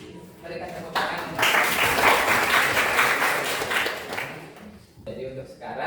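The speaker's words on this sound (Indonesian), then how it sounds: "Berikan tepuk tangan." A school class bursts into applause after a group presentation, dense clapping rising quickly, holding loud for about three seconds, then tapering off, with a few voices around it.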